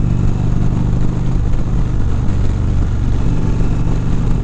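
A 2019 Indian Chieftain motorcycle pulling hard in third gear, its engine a loud, steady, throbbing low rumble heard up close with wind noise and no talk.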